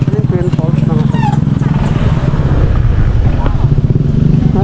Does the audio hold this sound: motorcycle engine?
yes